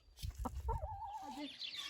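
A hen clucks close up in a village yard as she lays an egg, a few short clucks followed by a drawn-out warbling cackle, fairly quiet.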